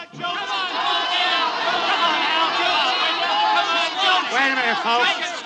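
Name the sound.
nightclub crowd yelling in a radio drama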